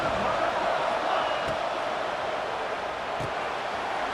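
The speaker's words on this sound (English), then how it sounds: "Listen to the crowd energy here in the early going." A stadium crowd in the EA Sports College Football 26 video game roars as a steady, broad wash of cheering noise that holds at an even level throughout.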